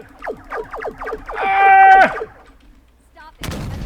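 Gunfire from a handheld weapon in the space survival game Breathedge: a rapid run of about eight sharp shots with a ringing synthetic tone, a short pause, then a harsh noisy blast, all loud with no talk over it.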